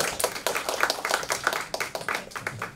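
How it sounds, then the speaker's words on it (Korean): Audience applause at an academic panel session on blockchain, greeting the panelists as they are introduced: a loose spatter of individual hand claps from a modest crowd, uneven and moderately near, with no talk over it. "박수 좀 부탁드립니다."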